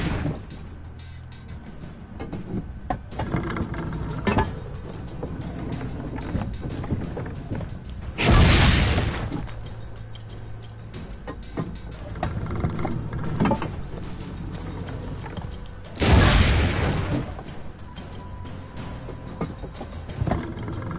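Two heavy cannon shots boom about eight seconds apart in the video game Assassin's Creed Brotherhood. Each is a loud, sudden blast that stands out over continuous battle ambience and scattered thuds.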